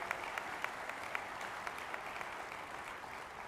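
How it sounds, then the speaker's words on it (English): An audience at the inaugural ceremony of an accountants' convention applauds a minister, with steady, moderately distant clapping from a large crowd that carries on throughout. "Let's give him a big round of applause"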